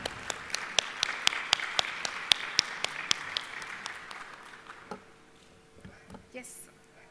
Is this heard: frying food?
no